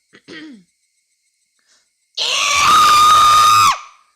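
A person gives a loud, sustained, raspy screech for over a second, an imitation of a screech made with the voice, preceded by a brief cough-like vocal sound.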